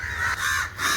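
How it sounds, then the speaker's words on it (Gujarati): Several crows caw near a spot where they gather to drink water, their harsh, loud calls overlapping in quick succession with brief dips between them and no voices. "જો આમે કાગડા છે કેટલા બધા નકસુડા."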